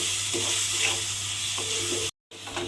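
Spice masala for a hilsa fish head curry, loosened with a splash of water, sautés in a pan with a soft, wet sizzle and light stirring scrapes, close and steady, with a brief silent gap near the end.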